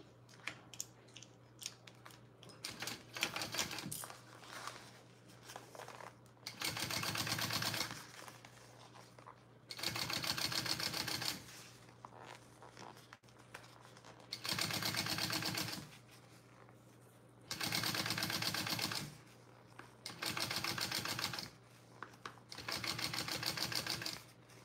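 A sewing machine top-stitches a zipper panel on a bag, running in six short, even bursts with brief pauses between them, close and fairly loud, with no talking.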